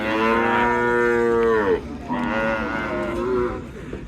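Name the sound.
cattle lowing at cattle market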